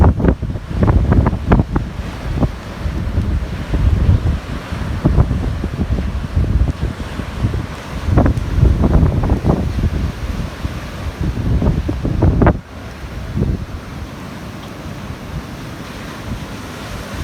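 Heavy surf pounds the shore during Hurricane Marco, a continuous wash of breaking waves with repeated crashes and strong wind buffeting the microphone throughout, loud and close.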